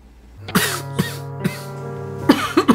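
Several sharp coughs from a person with a cold, spaced at irregular intervals close to the listener, with a low hum underneath and a quicker cluster of coughs at the end.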